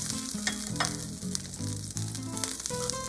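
Cooking oil and chili fry in a pan for a spicy Thai garlic basil clam dish, giving a loud, steady sizzle with bursts of stirring and clinking and no talking.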